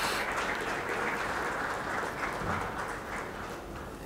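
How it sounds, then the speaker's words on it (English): An audience claps for the panelists at the close of a conference panel on the birth of a new Poland, 1989–1992: a steady wash of applause runs unbroken for about four seconds, moderately loud, with one sharp knock at the very end. "I think we can reward our panelists with a round of applause"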